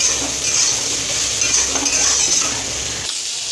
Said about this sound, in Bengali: সোয়াবিনটাকেও একটু ভেজে নেবো